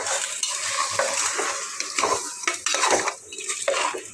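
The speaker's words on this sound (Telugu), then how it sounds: "ఉప్పు అన్నీ వేసేసిన బాగా కలిపేస్తా" Mutton being stirred with salt in a metal pan at home, the spoon scraping and clinking in an irregular rhythm under a soft sizzle, close and fairly loud throughout with no voices.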